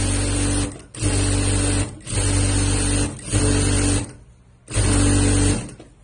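Sewing machine stitching a rolled shirt hem runs in loud steady bursts of about a second each, pausing briefly between runs, close up and without talk.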